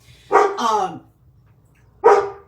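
A dog barks three times nearby, two quick loud barks close together followed by a single bark after a short pause, with no other sound around them.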